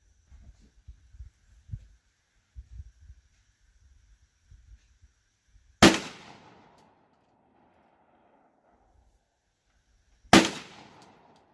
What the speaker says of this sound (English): I think I'll shoot some at one of these targets here so I can see where I need to hold first